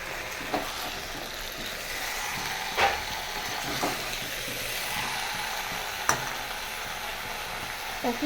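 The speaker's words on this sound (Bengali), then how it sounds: "আবারও আমি বেশ ভালো করে কষিয়ে নেব।" Handi chicken masala sautéing in a pan, a steady broad sizzle with occasional sharp scrapes of a spoon stirring, close and moderately loud, with no talking.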